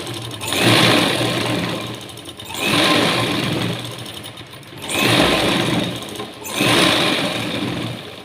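An electric sewing machine stitches blouse cloth in four long, rapid whirring runs separated by short pauses, loud and close with a buzzing motor tone.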